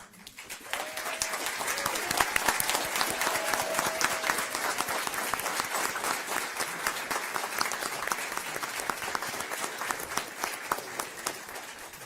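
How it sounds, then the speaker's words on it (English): An audience at a school board meeting applauds a girls' team, dense sustained clapping that rises quickly and holds steady for about twelve seconds, fairly close and filling the room. "can I ask you guys to stand so that we can give you a round of applause?"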